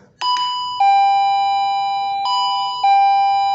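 A battery-powered wireless doorbell running on AA batteries plays a bright electronic chime, several ringing tones in sequence with sustained, fading notes, clear and close.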